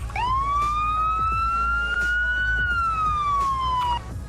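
Sheriff patrol car siren in the Roblox Greenville game, a single long wail rising and slowly falling over about four seconds, loud and close.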